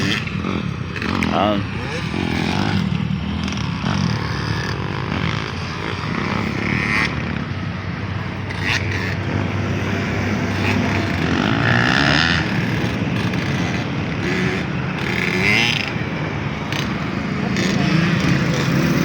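Several motocross motorcycles racing, their exhausts a continuous blend of small high buzzing and larger deeper engine notes, loud and steady throughout with a crowd of machines overlapping.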